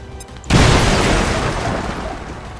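A sudden loud bomb blast in the video game XCOM 2 after a brief quiet start, followed by a long rumbling decay that slowly fades.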